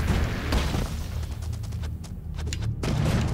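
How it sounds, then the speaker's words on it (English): A grenade goes off in the side-scrolling game Broforce, a dense roaring blast of noise with a sharper burst near the start and another near the end, loud and continuous throughout. "How did I throw a grenade?"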